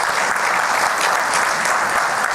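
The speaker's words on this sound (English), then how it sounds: "Doesn't this deserve a huge round of applause?" Loud, dense audience applause for a speaker at a conference, continuous clapping from a large crowd with no talk over it.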